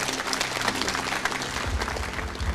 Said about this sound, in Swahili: Situmpigie makofi.